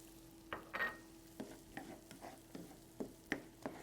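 Onions frying in a pan on medium heat, with a soft sizzle under several stirring scrapes and clacks up close, and no talking.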